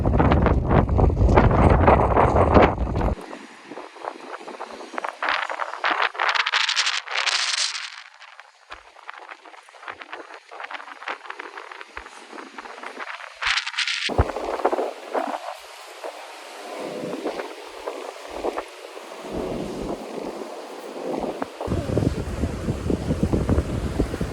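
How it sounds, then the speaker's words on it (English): Gusty wind in Aruba buffets the microphone with a loud, low rumble that eases after a few seconds, then keeps returning in rough, uneven bursts. "It's windy."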